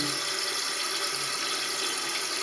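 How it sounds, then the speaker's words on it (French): A toilet cistern refills after its flush valve membrane was replaced, a steady, close hiss and rush of running water that continues without a break. "La chasse d'eau est remplie."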